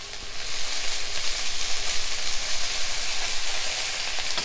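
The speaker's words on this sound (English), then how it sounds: "Okay, just stir it in." Cabbage stir-frying in a hot pan, a loud continuous hissing sizzle with a faint rhythmic churn as it is tossed, heard up close without talk.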